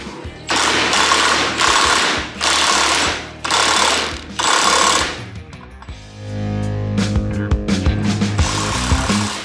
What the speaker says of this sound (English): It's not every day I get to bust out my 3/4 inch impact